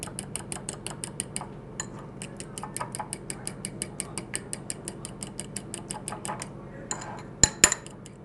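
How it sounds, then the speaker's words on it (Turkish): Egg yolk batter being whisked briskly in a bowl, a fast steady run of sharp metallic clicks and taps close by, ending in a couple of louder knocks against the rim. "Evet iyice çırptım"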